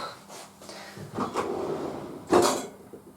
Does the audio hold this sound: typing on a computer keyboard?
no